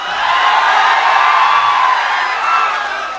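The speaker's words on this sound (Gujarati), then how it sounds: "જોરદાર તાળીઓ બતાવો." A large crowd at a political welcome rally in Surat for MLA Gopal Italia roars with applause and cheering, a loud sustained wash of noise that swells and holds with no clear talk on top.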